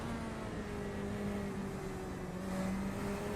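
A Corvette GT3 race car engine heard from on board in a sim racing game at Brands Hatch, a steady moderate drone with slowly shifting pitch and no talk.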